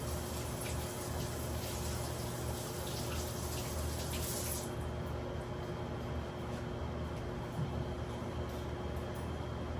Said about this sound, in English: I'm gonna rinse some hands here